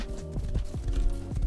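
Horse hooves clip-clop at a steady trot in the survival video game Rust, a close run of hoof strikes over a low background hum, with no talking.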